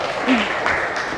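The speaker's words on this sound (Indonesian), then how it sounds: "Oke, tepuk tangan untuk kamu." Brief classroom applause during a teacher training practice lesson, a short burst of clapping with a voice briefly audible over it.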